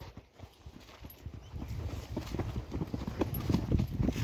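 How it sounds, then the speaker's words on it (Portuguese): A mare's hooves clip-clop at a walking pace on a cattle-roundup outing, steady hoofbeats growing louder as she passes close by, with no voices over them. "Olha, a égua passou."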